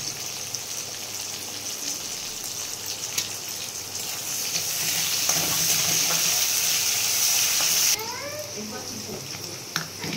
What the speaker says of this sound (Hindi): प्याज भल भाजवाई